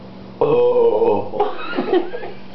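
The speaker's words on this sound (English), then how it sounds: "You have funny burp." A person lets out a drawn-out burp, loud and close, rising from a low hum into a croaky rumble that trails off over about two seconds.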